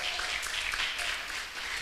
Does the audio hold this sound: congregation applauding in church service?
yes